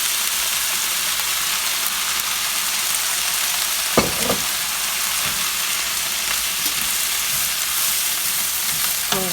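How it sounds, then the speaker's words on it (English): Pork pan deglazed with a splash of vinegar after searing, giving a steady broad sizzle throughout with a few brief scraping knocks, close and alone with no voices. "I'm going to deglaze the pan with just a little bit of vinegar"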